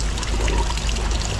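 Water pours steadily out of a container holding chicks, a continuous splashing trickle that is close and fairly loud, with no talking.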